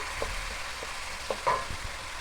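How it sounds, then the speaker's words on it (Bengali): Prawns dropped into a thick spice paste simmering in a pan, a soft continuous frying hiss with a few small pops and stirring scrapes, one slightly louder clatter partway through, with no talk. "এখন আমি এর মধ্যে সেই পরিষ্কার করে রাখা চিংড়ি মাছগুলো দিয়ে দিলাম।"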